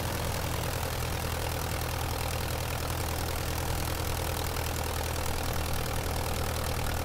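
Continuous droning engine of a Curtiss JN-4 Jenny biplane in Microsoft Flight Simulator, a steady low rumble held at constant level near full throttle, with no voices.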